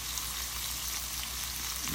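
Shrimp cooking in a pan for shrimp scampi, a steady close sizzle of frying that carries on evenly and alone for the whole stretch, with no talking.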